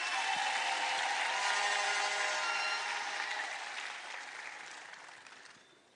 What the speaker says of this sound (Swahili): Tumkaribishe kwa makofi tafadhali